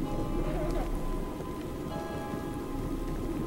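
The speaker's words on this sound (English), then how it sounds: "Now it's raining again." Steady rainfall in the Minecraft video game pours as a constant hiss of drops on surfaces, loud and even, with a soft tone sounding underneath partway through.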